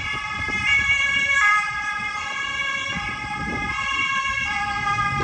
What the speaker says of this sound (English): The police always has their siren on in the ambulance, and it is so loud.